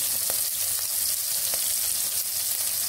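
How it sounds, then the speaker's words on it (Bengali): Ginger and garlic frying in hot oil, a dense steady hiss of sizzling with a few faint ticks and pops, close and even, no talking. "এখন এখানে আমি আদা রসুন দিয়ে দিব কাঁচা গন্ধটা যাওয়ার জন্য"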